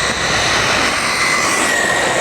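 A 1/10 scale RC car's electric motor runs at full throttle, a loud, steady high-pitched whine held without a break for a couple of seconds.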